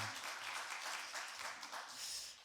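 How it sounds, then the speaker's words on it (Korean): A church congregation claps together during a Sunday worship service, a faint, even patter of applause lasting a couple of seconds. "우리 하나님께 우리 영광의 박수 한번 돌렸으면 좋겠습니다"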